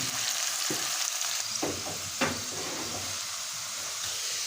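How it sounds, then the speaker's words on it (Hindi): Chopped onions fry in a pan for a fish curry, giving a continuous close sizzle with a few soft scrapes and knocks of stirring partway through. "तकरीबन 2 मिनट मैंने प्याज को फ्राई किया है"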